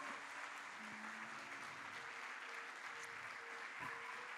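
Faint, distant applause from an audience at a motivational event, continuous clapping for people standing up, with a few musical tones faintly underneath.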